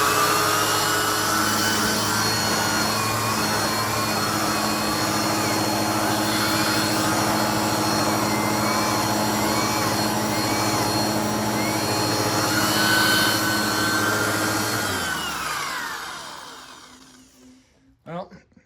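A Bissell PowerForce Helix Turbo vacuum cleaner runs with its turbo tool attached, giving a loud, steady high-pitched whine and roar that holds for about fifteen seconds, then winds down and cuts off, followed by a couple of faint clicks.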